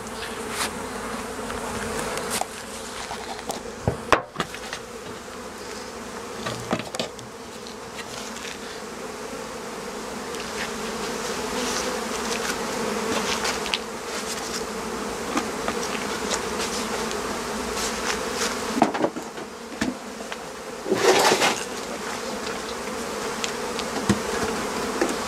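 A honeybee colony buzzes continuously and densely as it is moved into a larger hive, with occasional nearer bees droning past and some light handling knocks.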